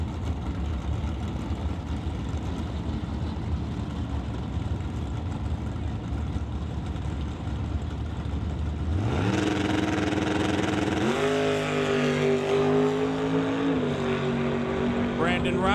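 Drag race cars run down the strip. A constant broadband engine roar swells halfway through into a loud, rising, revving drone with shifting tones, while the rumble carries throughout.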